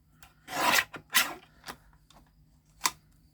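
A paper guillotine trimmer cuts paper in a few short, close scraping strokes, with a brief sharp snip near the end and quiet gaps between, no talking.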